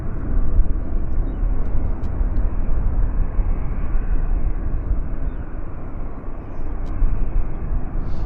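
A distant airplane departing from the north runway at Vancouver Airport gives a steady low broadband rumble that holds evenly throughout, with no talk over it.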